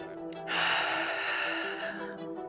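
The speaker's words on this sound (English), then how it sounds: "why don't we take a deep breath?" A single deep breath drawn in sharply during a breathing exercise, a loud airy inhale that swells and is held for over a second before fading, close to the listener.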